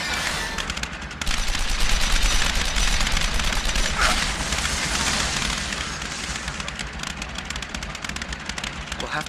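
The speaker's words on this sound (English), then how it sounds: "Get to cover. They're shooting from above." In The Evil Within, enemies positioned above fire continuous rapid gunfire, close and loud, with dense crackling shots running throughout under a low steady hum.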